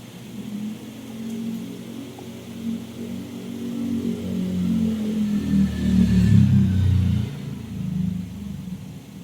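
A Suzuki car on a test drive after repairs to its ABS sensor, camshaft sensor and top mount: a steady engine rumble from inside the car that swells as it speeds up midway, then eases off, with no voices.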